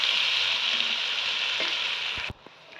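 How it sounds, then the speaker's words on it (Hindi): Three medium onions, finely chopped, fry in hot oil toward golden brown, giving a loud, dense sizzle that holds steady, then drops sharply with a few stirring knocks near the end. "इसमें 3 मीडियम साइज़ के प्याज जो बारीक बारीक हमने काट लिए थे, इनको करेंगे गोल्डन ब्राउन।"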